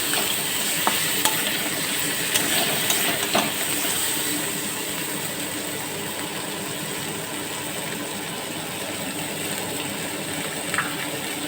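Boiled potatoes being stirred into a spice masala in a pan for a vegetarian aloo dum, with a steady close sizzle, soft scraping and a few sharp clicks of the spoon.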